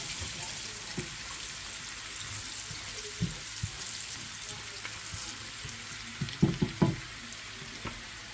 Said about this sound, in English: we just need to saute them up a little bit